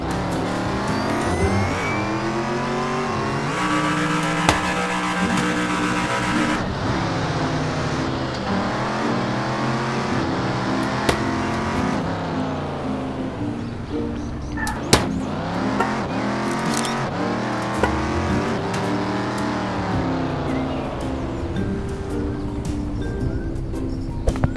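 A car engine in Dude Theft War drones and revs continuously, rising and falling in pitch as the car accelerates and shifts, loud and steady throughout with a few sharp clicks.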